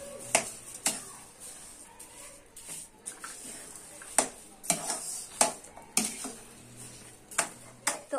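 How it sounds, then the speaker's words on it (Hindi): Sugar is stirred into moong dal halwa cooking with milk and ghee, giving irregular spoon scrapes and clinks against the pan over a soft sizzle, close and moderately quiet. "सारी चीनी इसमें अच्छे से मिक्स कर देंगे"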